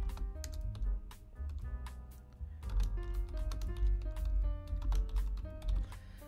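Keystrokes on a computer keyboard while editing text, a dense run of quick taps with musical notes and a low bass line playing underneath throughout.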